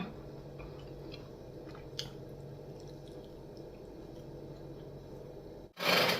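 Faint, close chewing of hot khanom tian, a Thai sticky dumpling with a sweet filling and lots of roasted peanuts, with soft moist crunches and small clicks, alone and quiet, ending in a sudden loud burst.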